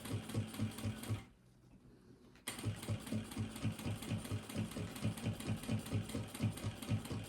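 Sewing machine stitching fabric for a makeup pouch, a rapid close rhythmic chatter that stops briefly for a second, then resumes steady and loud.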